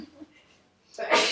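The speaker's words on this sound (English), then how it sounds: "I got to sneeze real bad." A single loud sneeze bursts out near the end, after a brief stretch of quiet breathing and faint low voice sounds, in a classroom discussion about public opinion.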